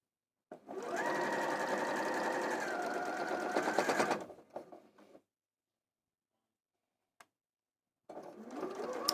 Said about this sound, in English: This is the last seam of the 12th block.